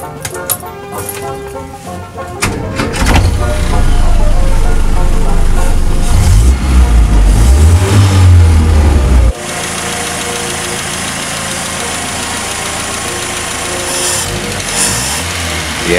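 Land Rover Series 2a with a five-bearing crank, unleaded-converted cylinder head and SU carburettor cranks and catches close by, revving loudly then settling into a steady rough idle, with some talk early on.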